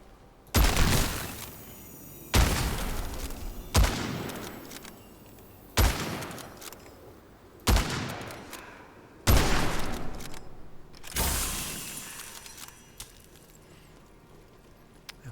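Bursts of auto rifle fire from the video game Witchfire, six loud rapid-fire volleys of a second or two each, separated by short pauses, with no voice over them.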